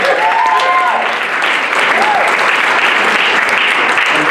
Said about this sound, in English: How about a round of applause for this lovely lady?